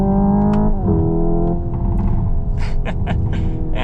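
A 2025 Hyundai Ioniq 5 N electric car's simulated engine drone with steady harmonic tones that drop in pitch at a simulated gear shift, then rumbling revs with bursts, loud and close throughout.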